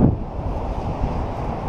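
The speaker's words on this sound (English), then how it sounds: "It's a bit windy, hopefully you guys can hear me." Wind buffets the microphone in a low, rumbling roar, gusting unevenly over a couple of seconds with no voices.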